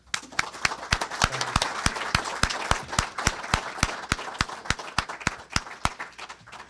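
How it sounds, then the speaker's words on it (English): Sparse audience applause after a talk on the U.S. and a space arms race, distinct individual claps in a quick, fairly even rhythm, fairly quiet in a hushed room. "If I could interest you in one more round of applause for Mike and his work."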